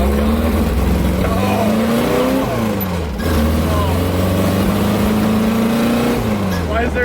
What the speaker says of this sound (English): Why is there 18 different exhaust notes coming out all at once?